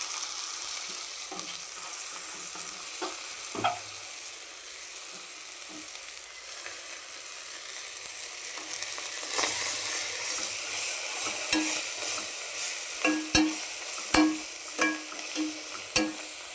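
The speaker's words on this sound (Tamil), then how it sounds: "மல்லியும் புதினாவுமே நல்லா வதங்கியிருக்கு" Coriander and mint leaves fry in a mutton dum biryani pot with a steady, close sizzling hiss, broken by scattered stirring scrapes and clicks that grow denser toward the end.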